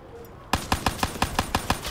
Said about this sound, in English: I shoot them in the leg for the penetration